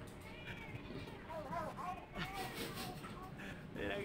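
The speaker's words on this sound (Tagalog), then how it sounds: "Nag-aaway na pusa." Fighting cats in Benguet let out a few quiet, wavering yowls and cries, partly under a person talking nearby.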